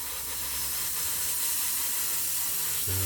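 An airbrush sprays a custom grey paint mix onto a 1/48 scale Kinetic Pucara model, a steady close hiss running throughout, with a brief low tonal hum near the end.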